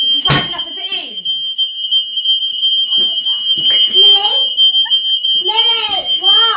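A shrill smoke or fire alarm indoors beeps as one continuous piercing tone, loud and close, while children shout and talk over it.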